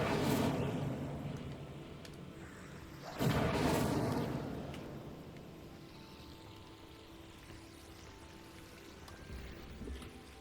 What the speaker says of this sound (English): Incendio. Set that thing on fire.